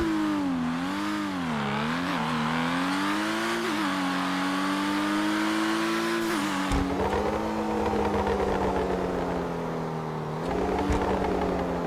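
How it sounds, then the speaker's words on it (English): Highly tuned car exhaust in GTA Online, a steady loud engine drone rising and falling with revs, then sharper crackling pops and bangs breaking in near the middle and end, with no voices. "with a very highly tuned exhaust note, which again is very lovely to hear"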